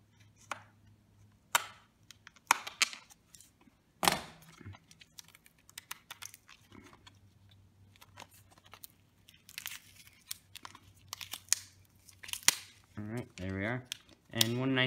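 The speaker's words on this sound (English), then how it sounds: "Grab a knife again, kinda cut this cardboard." A knife slices through cardboard packaging while a DJI Osmo Action battery is unboxed, giving sharp scraping cuts and tearing crackles in irregular bursts over a low steady hum, with some louder rustling near the end.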